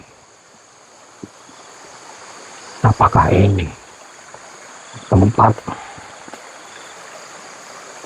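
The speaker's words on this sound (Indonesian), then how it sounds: "Aku mau coba menyeberang ataupun menyelusuri area sungai ini." A river stream flows steadily as a soft, continuous wash of water beneath two short bursts of speech, staying faint and even from start to finish.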